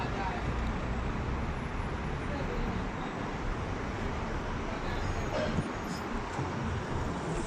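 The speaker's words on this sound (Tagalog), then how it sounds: "Ngayon ito, traffic ngayon sa tapat namin mga kamista." Steady road traffic rumbles past in front of a shop at night near an expressway exit, a continuous broad wash of engine and tyre noise with no distinct passing vehicle standing out.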